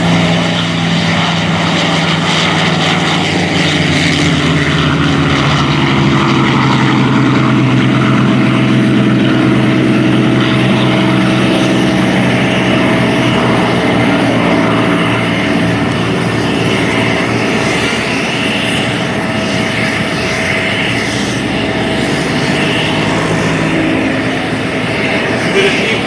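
A propeller warplane at the Westmoreland County International Airshow, its loud, steady engine drone holding for the whole stretch, with faint voices underneath.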